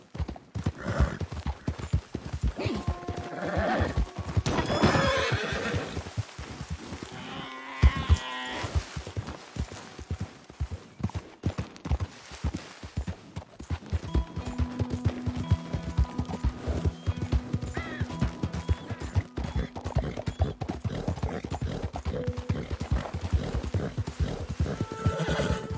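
A horse neighs and whinnies while hooves clip-clop steadily throughout, fairly close and loud, with a busy rhythmic clatter.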